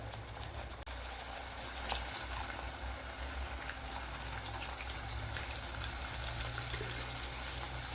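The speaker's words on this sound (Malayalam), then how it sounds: "ഇനി ഇതിലേക്ക് ആവശ്യത്തിനുള്ള പുളിവെള്ളവും കൂടി ചേർത്ത് കൊടുക്കുക." Tamarind water poured into a garlic kuzhambu simmering in a pan, a soft, continuous bubbling and faint sizzle with a small clink near the start, quiet and unbroken throughout.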